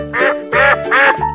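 A cartoon duck gives three quick, loud, nasal quacks in a row, bright and clean against a silent background.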